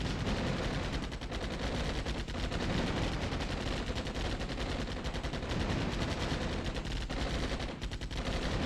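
Dense, continuous gunfire from the Armored Brigade II war game, Scandinavia DLC, with rapid bursts of machine-gun and rifle shots blending with heavier artillery-like thuds, loud and unbroken throughout with no talking.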